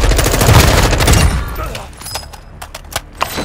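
Gunfire in the video game Call of Duty Modern Warfare II, a loud dense burst of rapid automatic shots for over a second, then scattered single cracks and a faint voice under the fading noise.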